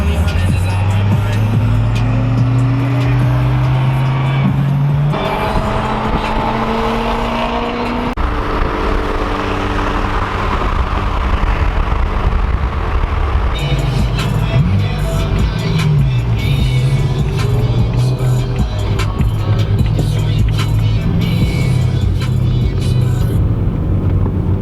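A BMW M3 drives with a steady, loud engine drone that shifts pitch as it accelerates and changes gear, with road and tire noise filling the background, alone without talk.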